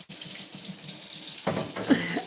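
Water runs from a kitchen tap while warming up before cooking, a steady rushing stream that swells slightly toward the end, with no voices.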